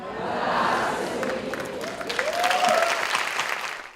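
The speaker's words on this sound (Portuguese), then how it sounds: "Na plateia, os espectadores todos saúdam Lenine com aplausos." An audience applauds Lenine at a Sesc talk event, a steady, full clapping from a crowd that holds for several seconds with a brief cheer-like cry rising over it.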